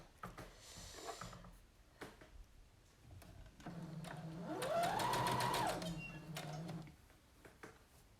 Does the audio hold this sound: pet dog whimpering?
no